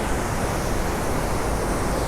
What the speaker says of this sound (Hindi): मंदाकिनी नदी का धार बहुत तेज जा रहा है यहाँ पे